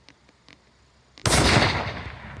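A single rifle shot fired from a standing position outdoors at a target set on rocks: a sharp, loud crack breaks a near-silent stretch with faint clicks and rings out in a long, decaying tail.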